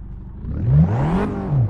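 A car engine in the Assetto Corsa racing game revs up to a sharp peak, then drops and rises again, loud and close over a brief burst without speech.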